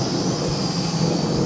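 A Sky Viper E1700 racing drone flies nearby, its propellers producing a steady high-pitched whirring buzz that holds evenly without talking.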